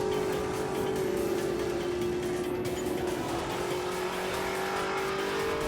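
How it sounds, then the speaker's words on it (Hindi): A rally car roars steadily along a coastal track in Balochistan during the 11th Hub Rally Cross, its engine a continuous loud drone with no gaps, heard alone without talk. "और अब ये चौथी गाड़ी ट्रैक के ऊपर आपको नजर आ रही होगी।"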